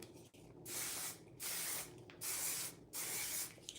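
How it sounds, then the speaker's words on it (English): Four long bursts of hair spray hiss close by, each lasting about half a second to a second, separated by brief pauses. "I'll spray that in the hair"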